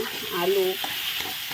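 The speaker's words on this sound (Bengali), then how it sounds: "যত কিছু মশলা দিয়েছি সব কিছু ভালো করে একদম ভালো করে ভাজা ভাজা করে নেব" Mashed potato and spices stir-fried in a pan for an aloo Moglai paratha filling give a low, steady sizzle broken by scraping spatula strokes, close and moderately loud, with no voices.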